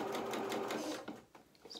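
Sewing machine stitching a dress bodice band, a quiet, close, steady mechanical whir that slows and fades near the end, with no talk.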